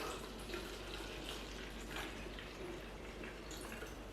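Water poured into a container while making mead with honey and yeast, a faint, steady liquid wash with some light splashing throughout.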